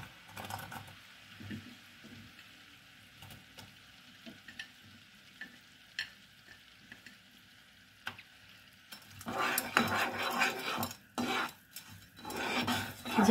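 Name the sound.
apple chutney sugar syrup boiling on high flame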